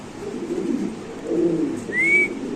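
Mookhi pigeons coo in low, soft, throaty murmurs close by, followed by a brief higher chirp near the end.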